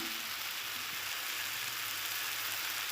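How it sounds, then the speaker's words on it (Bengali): Tomatoes frying over high heat for tomato chutney give a steady, dense sizzle that hisses evenly and close throughout, with no talk over it. "এরকম একটু জোরে জাল দিয়ে টমেটো ভালো করে কষিয়ে নিতে হবে"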